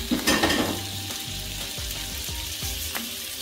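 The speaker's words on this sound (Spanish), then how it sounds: "vamos a freír nuestra salchicha" Sausage fries in leftover meat fat in a pan with a loud, steady sizzle, punctuated by small pops and the scrape of stirring.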